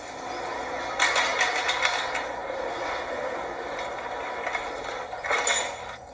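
Light-filtering screens on a house being opened, a series of mechanical ratcheting and rattling bursts near the start and again toward the end, fairly faint and close, with no talking.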